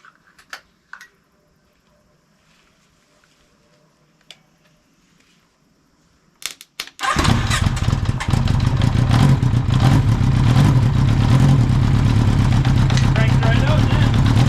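A custom 1980 Honda CB900 motorcycle lawnmower trike that sat for years: sparse clicks and a short crank, then the engine catches and roars into a loud, steady running idle up close, with voices nearby.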